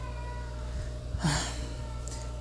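A single short cat meow sounds once, fairly faint, over a steady low humming background.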